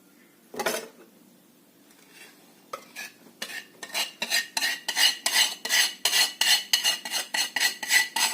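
Sugar being beaten with ghee in a bowl for coconut biscuit dough, a steady rhythmic series of close scraping, thudding strokes speeding into an even beat after a few isolated knocks, no voices.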